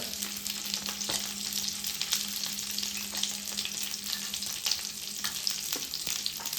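Tomatoes and cashews frying in a pan give a constant close sizzle with soft stirring scrapes and occasional spits, a faint steady hum underneath and no voices.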